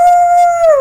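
A person imitates a dog howling at the full moon, one loud, close, sustained howl that holds steady, then bends and slides downward at the end.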